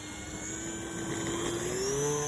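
E-flite Air Tractor 1.5m RC model plane with its throttle enabled for takeoff, a steady electric motor whine that rises in pitch and grows slightly louder, heard nearby over a broad airy hiss with no talk.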